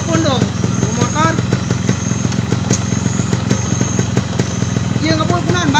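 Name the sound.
motorcycle engine started and running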